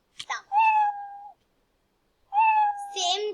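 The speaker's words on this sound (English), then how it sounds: "it will play meow sound" A cat meow sound effect plays from a Scratch coding project, two clear, drawn-out meows separated by a second of silence, close and fairly loud.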